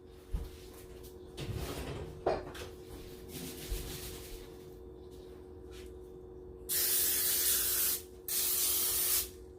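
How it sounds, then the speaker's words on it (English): Two steady hissing bursts of cooking spray onto breaded chicken, each lasting about a second, following quiet kitchen handling noises and a few light clunks. "Lightly coat the breaded chicken with cooking spray"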